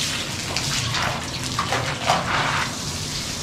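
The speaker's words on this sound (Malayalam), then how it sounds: "ഇപ്പം ഇവിടെ നമുക്ക് വെള്ളം അടിച്ച് കാണിച്ചു തരുന്നു" Water sprays onto a gypsum plaster wall in a steady, loud, continuous rushing hiss that swells slightly, with no voices.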